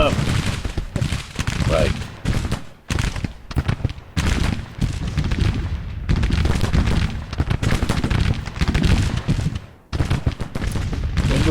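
Heavy gunfire and volleys roll on in a Civil War battle in the strategy game Grand Tactician: Civil War, with dense continuous bursts and a few brief lulls, while someone speaks one short word.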